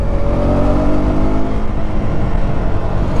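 A KTM Duke 250 Gen3 motorcycle engine pulls in third gear with a loud, steady, close drone and a rising rev, and no voices over it.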